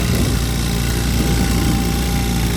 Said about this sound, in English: my motor is sounding awful